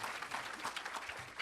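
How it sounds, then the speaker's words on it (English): Audience applause for a panel at a public event: steady dense clapping from a crowd, fairly faint and distant, brief and unbroken with no clear voices. "make a round of applause for this fantastic panel"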